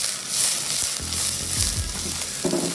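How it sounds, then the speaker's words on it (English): Diced onions sizzle in olive oil in a pan, a dense continuous hiss with some clattering low thumps in the middle, close up. "Into our pan we're going to put the onions"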